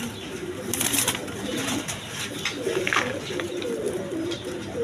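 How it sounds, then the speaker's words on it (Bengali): A pair of Lahori pigeons coo in a steady run of soft, low, rolling calls, close and continuous, with faint background noise and brief brighter rustles. "এখানে এক পেয়ার লাহোরি কবুতর আছে আপনার"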